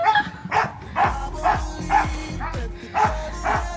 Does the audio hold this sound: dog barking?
yes